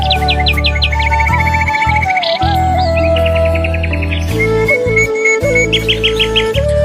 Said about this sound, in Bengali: চারিদিকে পাখির কিচিরমিচির